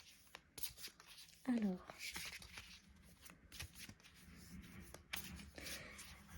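Tarot cards are shuffled and handled during a love-themed card reading, giving a run of close, crisp papery flicks and rustles spread across the moment, with a voice briefly speaking over them.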